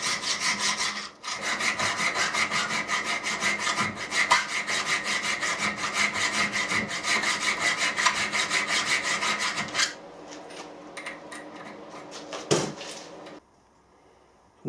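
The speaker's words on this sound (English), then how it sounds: "I'm going to file it square so the case seal will fit through it." Steady, continuous rasping of a file squaring a hole in a metal lathe chuck back plate, rhythmic back-and-forth strokes for about ten seconds, then a few quieter scrapes and a knock before falling silent.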